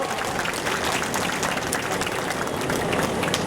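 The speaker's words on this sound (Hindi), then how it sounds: "एक बार आपके ऊर्जावान विधायक सुशांत शुक्ला जी का जोरदार ताली बजा के अभिनंदन और स्वागत करो।" A crowd gives a warm round of applause to MLA Sushant Shukla. The clapping is loud, thick and unbroken from start to finish, with no pauses.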